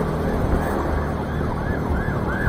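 An ambulance siren wails through busy city traffic in Yogyakarta, its rising and falling yelp repeating steadily and loudly over the engine hum of surrounding vehicles.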